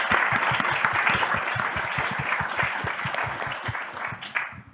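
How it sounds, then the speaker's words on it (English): Sustained audience applause at an evening lecture, dense steady clapping from a large room that holds loud throughout and begins to thin out near the end. "Big round of applause."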